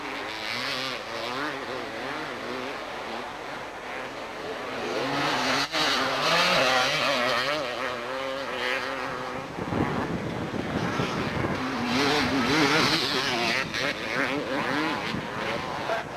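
Motocross motorcycles racing in the 250 Junior Division at Mammoth Mountain in 1989, engines revving and whining in rising and falling pitches, a loud buzzing pass building midway, with wind noise throughout.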